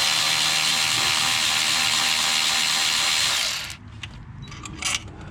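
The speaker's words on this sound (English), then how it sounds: "It's a Milwaukee 12-volt ratchet, and it's great." Milwaukee 12-volt cordless ratchet spinning a nut on a 2008 Nissan Titan during starter replacement, a steady loud motor whir for several seconds that cuts off, followed by faint clicks and handling noise.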